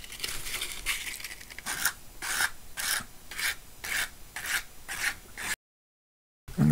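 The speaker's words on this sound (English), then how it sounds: "That's what we're going to do through filing." A nail file rasps across a split fingernail in steady downward strokes, about a dozen rhythmic scrapes up close, followed by a brief silence and a faint sound at the end.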